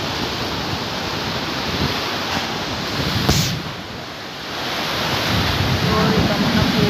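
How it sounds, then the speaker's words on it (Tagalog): Strong wind and heavy rain during a flood, a loud steady rushing wash with a brief gust burst in the middle, a short dip, then a roar that builds again. "Sobrang lakas ng hangin. Hangin at ulan."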